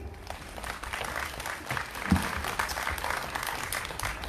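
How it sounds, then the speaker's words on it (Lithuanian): An indoor audience at a Lithuanian library cultural event in Šiauliai breaks into steady, sustained applause, a dense wash of clapping that holds at an even level throughout. "Plojimai."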